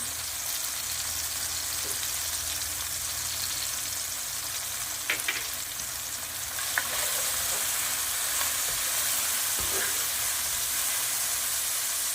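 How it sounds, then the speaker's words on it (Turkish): Onions sautéing in a pan with sugar and salt give a steady, close sizzle with a few soft clicks of stirring, and no voices. "Soğanlarımızı hafif sote yapıyoruz."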